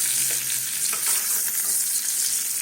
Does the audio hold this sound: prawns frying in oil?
yes